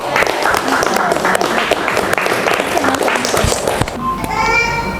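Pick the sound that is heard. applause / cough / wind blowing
applause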